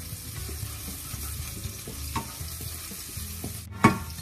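Garlic and onion sautéing in a pan for spaghetti bolognese, a steady close sizzle with soft scraping as they are stirred, and a sharper clatter of the utensil near the end.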